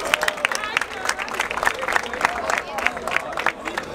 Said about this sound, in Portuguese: Palmas pra essa batalha aí,